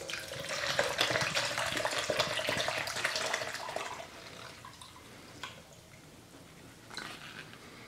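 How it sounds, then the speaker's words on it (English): Copper sulfate electroforming solution of sulfuric acid and distilled water is poured into a plastic cup, a steady liquid splash for about four seconds that then stops, followed by a few faint handling sounds. "Let's go ahead and pour it into our container."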